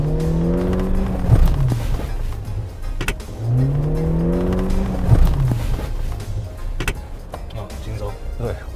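A 2019 Suzuki Jimny pulls away on a steep slope with hill assist engaged, its engine rising and falling in two drawn-out revs with clicks and knocks from the cabin, while people talk throughout.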